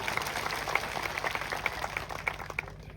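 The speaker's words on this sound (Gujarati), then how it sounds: "બધા માટે એકવાર જોરદાર આપણે તાળીઓ પાડી લઈશું" A crowd at an outdoor political gathering in a Gujarat village claps steadily together, a moderately loud, even patter of many hands over a faint electrical hum, with no voices.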